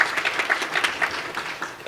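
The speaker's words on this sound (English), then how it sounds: "So please give another round of applause to Lele." Audience applause at a children's world peace summit, honoring someone speaker; a steady patter of many hands clapping fills the short stretch at moderate loudness and tapers slightly toward the end.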